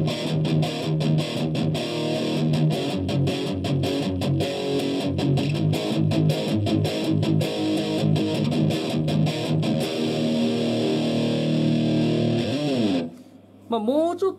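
Electric guitar played through a Marshall JCM2000 amplifier with gain at noon, reverb around 2 and other controls at noon, giving a continuous distorted rock tone with rhythmic chords for about thirteen seconds before cutting off into a brief quiet tail.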